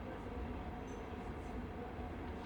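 A night train rolls along the tracks through the Alps, heard as a faint, continuous low rumble with soft rolling texture and no distinct clicks.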